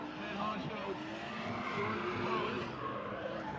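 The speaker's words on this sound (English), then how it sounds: "Oh, bumper hitting off the barrier, dragging behind this 2 Series." A BMW 2 Series drift car at a drift event, its bumper striking and dragging along a barrier, heard as a continuous loud roar of engine and squealing tires with scraping mixed in, steady throughout.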